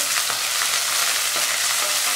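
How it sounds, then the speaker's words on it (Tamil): Shallots and coriander sautéing in oil in a pan for a village-style fish kulambu make a close, steady, hissing sizzle with faint stirring throughout. "இது 1-2 நிமிஷம் வதங்கிடுங்க."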